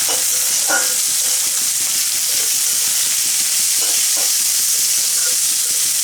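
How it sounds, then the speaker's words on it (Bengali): Red lentils fry in a pan with onion and garlic, giving a steady, loud sizzle with occasional stirring clatters throughout, with no talk. "ডালগুলো পেঁয়াজ রসুনের সঙ্গে খুব ভালো করে ভেজে নেবেন"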